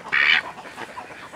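A duck gives a single short, loud quack up close, and the rest is faint rustling and quiet.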